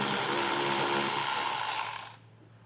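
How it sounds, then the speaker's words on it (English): A ratchet turning an 8mm socket to back out a screw under the fascia of a 2018 BMW, a steady rapid clicking that runs for about two seconds, then cuts off to near silence. "It's an 8mm socket to get that taken out."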